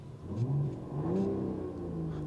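A Mercedes-Benz CLE coupe's six-cylinder engine revs up close, its pitch rising and falling in two smooth swells over a steady throaty idle, heard alone without talk.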